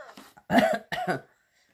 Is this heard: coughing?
yes